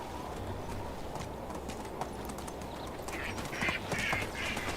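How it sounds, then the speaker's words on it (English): Ducks quack in the medieval village game Medieval Dynasty, a few soft nasal calls near the end over a steady rhythmic clip-clop of hooves and outdoor ambience. "Yeah, I hear you, duckies."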